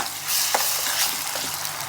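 Onions, green chillies and ginger garlic paste frying in a pan for an egg fry, a close, steady sizzle with soft stirring scrapes and small crackles throughout.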